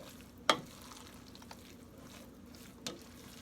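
Breadcrumb stuffing mixed with stock gives soft wet squelching and stirring, with a couple of sharper clicks from the spoon against the bowl, close and quiet, no talk.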